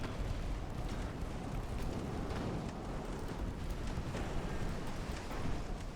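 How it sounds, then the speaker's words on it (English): Torpedo launch in the naval game Ultimate Admiral Dreadnoughts, heard as a steady, dense wash of rumbling, crackling noise with scattered pops that holds at even loudness throughout, with no talk over it. "And there we go, another torpedo launch."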